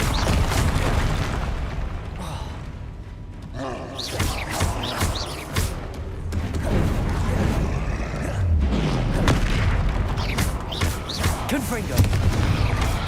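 Repeated Confringo blasting-spell explosions in the Hogwarts Legacy video game fire off in a dense, chaotic string of loud booms and crackling blasts over a constant rumble of combat ambience, with intermittent voices.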